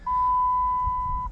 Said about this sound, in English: You can hear that beeping sound, that's what you're gonna hear.